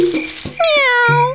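A single drawn-out cartoon cat meow from a 1998 Windows children's game, loud and close, preceded by a couple of short clicks and rattles.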